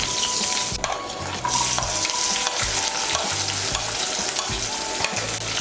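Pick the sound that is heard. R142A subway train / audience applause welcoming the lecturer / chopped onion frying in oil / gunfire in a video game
chopped onion frying in oil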